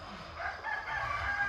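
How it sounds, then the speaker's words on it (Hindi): Roosters crow close by near a meditation centre in Bali, with several overlapping calls that keep going, and clucking fowl and faint outdoor noise underneath. "इतने मुर्गे, इन्होंने इतना तंग किया था मेडिटेशन में।"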